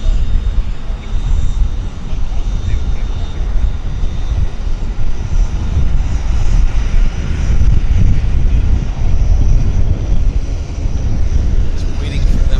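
A Flair airliner, flight 802 bound for Calgary, runs its engines at Vancouver airport with a steady rumbling drone and a faint high whine, while people talk over it.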